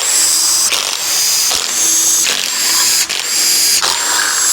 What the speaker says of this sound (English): Move this line, and then we start removing all the other bolts.